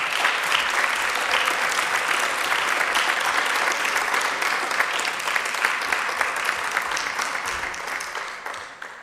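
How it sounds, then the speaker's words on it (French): An audience at the final of a school debating contest applauds the debaters, with sustained, dense clapping that stays loud and even for several seconds before starting to thin out at the end. "Vous pouvez les applaudir bien fort."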